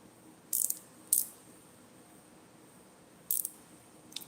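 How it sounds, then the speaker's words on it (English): A ratchet wrench clicks in a few short, separate bursts with long quiet gaps between them, close by and crisp against a faint room background. "Ratcheting."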